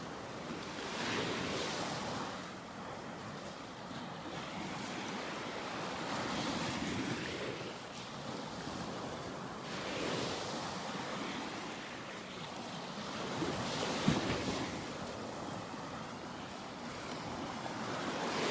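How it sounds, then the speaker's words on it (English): Small, gentle ocean waves wash steadily onto a beach in North Naples, Florida on a summer morning, a continuous soft surf roar with light wind across the microphone and no talking. "Loving the sounds of these little waves."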